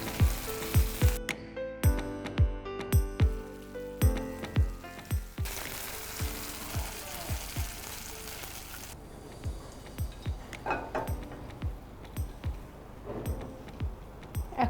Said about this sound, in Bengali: এখন আমি মাংসটা দিয়ে দিচ্ছি।